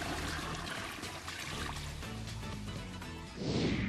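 A Stealth water-efficient toilet using 0.8 gallons per flush rushes steadily, a continuous pouring wash of water with a surge near the end, quiet and unaccompanied by talk.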